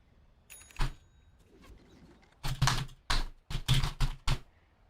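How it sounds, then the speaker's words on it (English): A computer keyboard is typed on during a Dota 2 gaming session, with clustered bursts of crisp, close keystroke clicks separated by brief pauses. "How does it sound when I type?"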